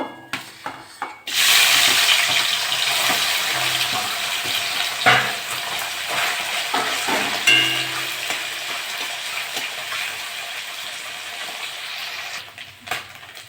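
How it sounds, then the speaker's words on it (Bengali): Small mourala fish frying in hot oil, a loud continuous sizzle that starts abruptly after a brief quiet opening and carries occasional turning and scraping sounds throughout. "বাকি মাছগুলো আমি একইভাবে ভেজে নেব।"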